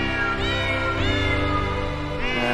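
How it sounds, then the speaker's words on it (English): Cat meows, three drawn-out tonal calls in close succession, loud and close with a steady background underneath. "Meow, meow."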